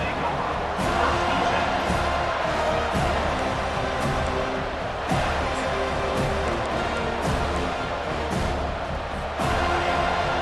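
Stadium crowd in EA Sports College Football 25, a steady dense roar with scattered cheering that never lets up, heard under a commentator's talk.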